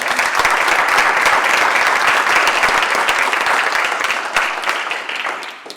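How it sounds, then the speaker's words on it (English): An audience claps in sustained, dense applause at a lecture event, steady and loud throughout before easing slightly near the end, with no talking over it. "Let's give Steve a big round of applause"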